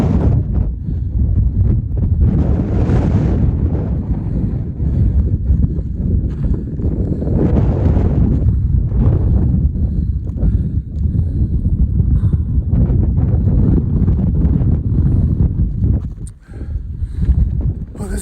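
Strong wind buffets the microphone on the snow-covered Max Patch summit in North Carolina at 28 degrees, a loud, continuous rumbling roar with gusting surges throughout.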